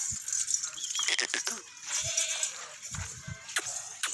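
Pregnant goats on a Pakistani goat farm bleat in short bursts, several overlapping calls close by amid clinks, rustling and general farmyard noise.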